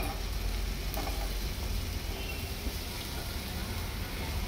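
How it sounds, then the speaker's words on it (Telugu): Bitter gourd pieces sizzle steadily as they are added to fried onions in a pan, a dense, even hiss of frying that holds at a constant loud level throughout, with no talk. "ఆనియన్స్ ఫ్రై అయిన తర్వాత కాకరకాయలు వేసుకోండి ముక్కలు"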